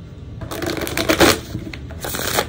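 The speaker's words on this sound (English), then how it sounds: "Okay, so I'm going to shuffle, and I need to shuffle really well" A tarot deck of linen cardstock being shuffled by hand, with close, crisp riffling and flapping bursts that come in quick waves and pause briefly between them, with no talking.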